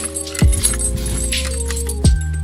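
Car keys jangle close by in two quick bursts of metallic clinking, with a low steady hum from a car interior underneath.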